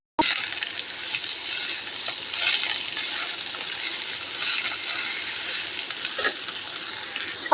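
Jute leaves and fried onion hiss loudly in a pan, a dense unbroken sizzle with occasional soft scraping as the mix is stirred together.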